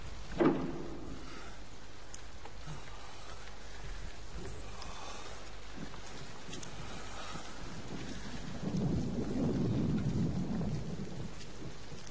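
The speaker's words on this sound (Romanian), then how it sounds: "văd că Baal ne-a trimis nouă ploaie." A thunderstorm brings steady rain with a crack of thunder early on and a deep rolling rumble swelling later, set against constant patter and some wind buffeting, with no voices.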